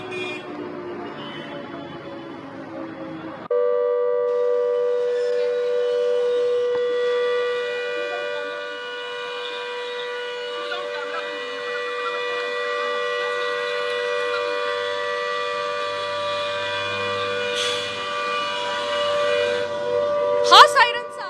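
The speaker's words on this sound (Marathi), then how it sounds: "हा सायरनचा आवाज जो आपण ऐकतोय तो इतर कुठच्याही देशातला नसून तो मुंबईमधला आहे" Civil defense air raid siren sounding during a mock drill in Dadar, Mumbai, a loud steady wailing tone that swells in after a few seconds and holds for the rest of the stretch, with a brief sharper burst near the end.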